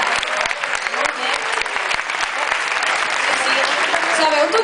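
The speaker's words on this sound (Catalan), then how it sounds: "Un fort aplaudiment, ho has dit perfecte." Audience applause at a children's jazz concert with trumpets and trombone, a loud, dense burst of clapping that fills the whole stretch steadily.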